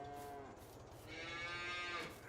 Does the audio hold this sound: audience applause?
no